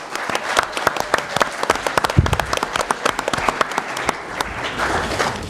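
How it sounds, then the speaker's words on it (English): At a 2017 Pleasant Grove mayoral and city council debate, the audience applauds council candidates with loud, sustained clapping in which many individual sharp claps stand out within the crowd. "let's give them a round of applause for making it through"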